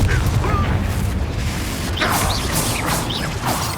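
Fiery Confringo spell blasts in the Hogwarts Legacy video game, rendered as a dense rumbling roar with bright whooshing bursts and crackling impacts layered over steady combat noise.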